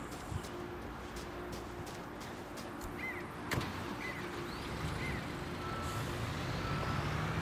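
A truck backs up in Construction Simulator on PS5, its reversing alarm giving a few evenly spaced high beeps over a steady diesel engine rumble and outdoor ambience.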